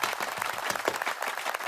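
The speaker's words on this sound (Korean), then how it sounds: "박수!" Short burst of applause for someone joining Moin's Global Friends seventh cohort, dense and steady clapping filling the whole moment at moderate volume.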